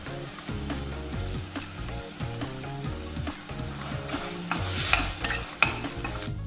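Tomatoes cook down with rock salt in a pan, a soft frying sizzle with spatula stirring throughout and a louder burst of hiss near the end, no voices.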